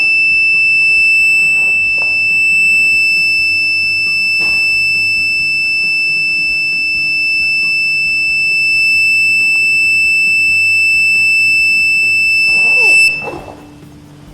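A dam's water level alarm buzzer sounds a loud, continuous high-pitched electronic tone steadily for a long stretch, then stops abruptly near the end.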